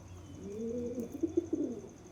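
Pigeons coo in a soft, close series of low rounded calls, a few throaty pulses rising and falling over a quiet background.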